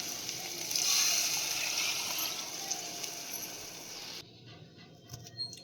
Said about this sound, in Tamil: இப்போ அடுத்தது தண்ணி சேர்த்துடலாம்.